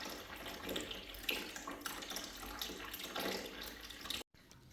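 Water drains steadily out of a radiator into a container, a continuous close trickling and splashing rush that cuts off abruptly near the end.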